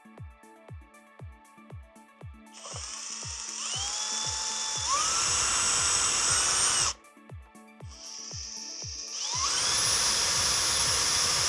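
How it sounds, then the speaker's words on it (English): A power drill whirs up to speed twice, its motor whining loudly as it bores 6mm pilot holes through panels for BMW R1300 GS motorcycle fittings, with ticking clicks between the bursts. "we'll drill the pilot holes into these panels"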